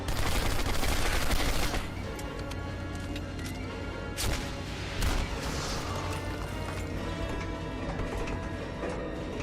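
Rapid bursts of gunfire in the video game Turning Point: Fall of Liberty, a dense, loud fusillade of shots with crashing impacts running continuously, heaviest at the start and then steady throughout.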